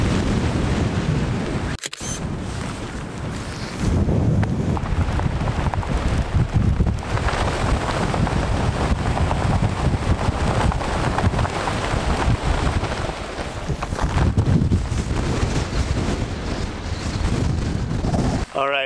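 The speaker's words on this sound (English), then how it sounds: "It's starting to get windy again" Wind blows hard across an open outdoor hiking spot, buffeting the microphone with loud, continuous rumbling gusts that swell and ease over nearly twenty seconds, with a sharp click partway through.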